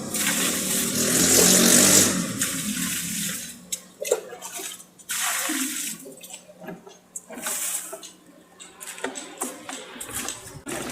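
Water splashing and pouring onto potted plants in the morning, a loud continuous gush at first that turns into intermittent splashes and trickles.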